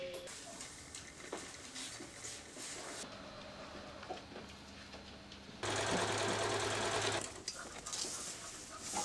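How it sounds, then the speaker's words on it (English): An industrial sewing machine stitches a silk facing onto a tulle underskirt at a couture atelier, whirring in several bursts of differing length, close and loud, with no talk. "It is stitched to the waist and allows the underskirt to be sewn to the lining of the coat."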